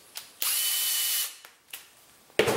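A socket driver drives a pin through stacked robot-arm parts in a few short mechanical bursts: one sustained whir of about a second, then brief, quieter spurts and a final sharp burst.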